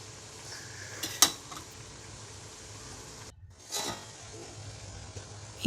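A spoon scraping and clinking against a pan while caramel is stirred, soft intermittent metallic knocks over a quiet background, with a couple of sharper clinks.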